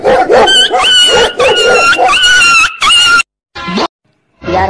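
A dog barks loudly and close in a rapid string of yelping barks, then falls silent and gives two more separate barks after short pauses.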